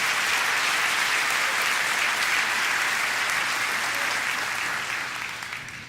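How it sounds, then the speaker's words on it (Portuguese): A church congregation applauds the Lord in a sustained, dense wash of clapping that holds steady and then begins to fade toward the end, with no voices rising above it. "Pode dar uma salva de palmas ao Senhor"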